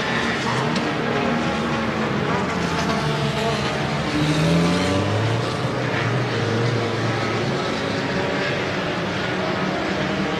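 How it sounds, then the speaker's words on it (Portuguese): A race car at a Super Liga championship round roars continuously, its engine note rising and falling as it approaches and sweeps past, loud and steady with no talk. "vem aí carro número 63"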